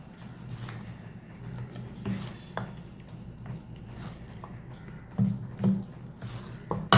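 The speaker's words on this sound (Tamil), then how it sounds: "இன்னும் கொஞ்சமாக தண்ணி ஊற்றிக்கிறேன்" Water poured into a wheat-flour sweet paniyaram batter: a steady, soft trickle and splash with a few wet squishes and drips, close by, continuing without a break.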